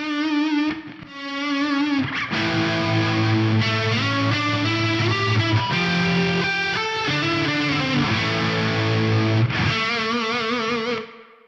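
A Meris Mercury 7 reverb pedal set fully wet turns sustained guitar chords into smooth automatic volume swells, each note blooming softly into a thick, shimmering wash that rises and falls in slow waves with no attack.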